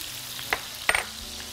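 Finely chopped onion frying in olive oil in a wok, a faint steady sizzle with a couple of short stirring scrapes, close by and without talk.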